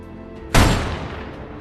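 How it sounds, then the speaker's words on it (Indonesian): A single gunshot in a film bursts out loud and sharp after a low hum, then decays into a fading rumble. "layar kemudian pindah keluar dan terdengar 1 kali suara tembakan."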